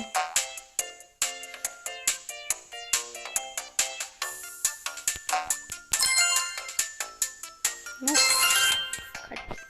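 Bright notification chimes in the Red Ball 4 platform game play as a rapid run of ringing, bell-like tones. A short, louder burst comes near the end.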